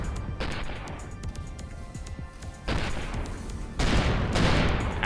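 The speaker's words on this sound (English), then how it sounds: "And I'm getting shelled by cannons." Heavy cannon fire shelling a ship in the space game Avorion rumbles in dense, booming volleys that swell louder in waves, with a crackling barrage of impacts throughout.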